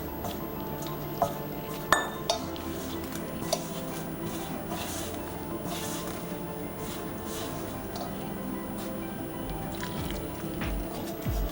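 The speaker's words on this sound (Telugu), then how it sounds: "పిండి వేసుకుని కొద్దిగా వాటర్ యాడ్ చేసుకుంటూ కలుపుకుందాం." Wheat flour and water kneaded into a stiff puri dough in a wide bowl, soft continuous squishing with a few light clinks of the bowl near the start.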